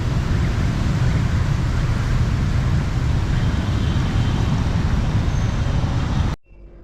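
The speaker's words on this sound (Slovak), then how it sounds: "Tá premávka, všetko to patrí k tomu." Street traffic in Ho Chi Minh City, Vietnam, makes a dense, continuous roar of engines and road noise that stays loud throughout before cutting out abruptly at the end.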